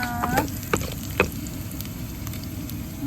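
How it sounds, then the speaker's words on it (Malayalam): Onions frying in a pan while a Kottayam-style Kerala fish curry is cooked, giving a steady close sizzle with a few brief stirring clatters and no talk. "ഉള്ളിയൊക്കെ ഇവിടെ മൂത്ത് വന്നിട്ടുണ്ട്."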